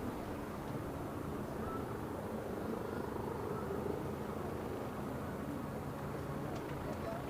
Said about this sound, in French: L'hélicoptère, par son rotor au-dessus,